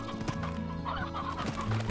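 Colorful chickens cluck in the Slime Rancher video game, several short fowl calls over a soft game background.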